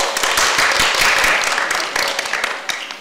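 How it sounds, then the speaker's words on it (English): Audience applause fills a hall after a set of five presentations at a women's sustainability science week event, a dense, loud, steady wash of clapping lasting a few seconds and tapering slightly at the end. "Please give one more round of applause for these 5 spectacular presentations."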